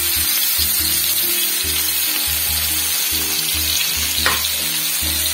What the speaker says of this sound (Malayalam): എണ്ണയിലോട്ട് നമുക്ക് പച്ചമുളകും ഇഞ്ചിയും ചേർത്ത് കൊടുക്കാം